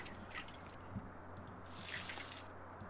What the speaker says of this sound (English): Just a little splash here and there.